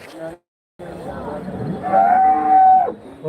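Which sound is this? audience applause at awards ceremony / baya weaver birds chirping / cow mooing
cow mooing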